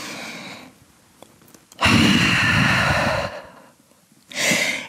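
A deep breath in a yoga session while holding downward dog: a long, loud, close exhale lasting over a second, followed by a quieter pause and another strong breath, with no talking.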